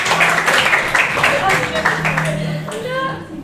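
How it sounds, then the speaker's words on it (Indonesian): A crowd claps steadily for a few seconds, the applause thinning out toward the end. "Kasih tepuk tangan untuk kita semua."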